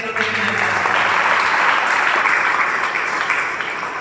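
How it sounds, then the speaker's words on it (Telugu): A church congregation claps loudly together, a dense, steady burst of applause that fills the room for several seconds without a break. "గట్టిగా చప్పట్లు కొట్టి"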